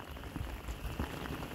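Heavy rain pours steadily onto outdoor pavers beside a house and well house during a storm, a dense, continuous hiss with soft patter throughout, no voices.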